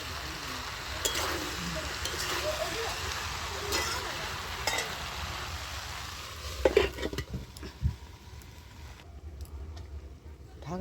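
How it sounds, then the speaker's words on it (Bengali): Papaya and potato curry with salt and turmeric being stirred in a pan, a continuous soft sizzle with occasional scraping and clinks of the spoon, close by, ending in quieter hiss. "এইটা আমি আবার ভালো করে নেড়ে চেড়ে ঢাকনা দিয়ে দেবো।"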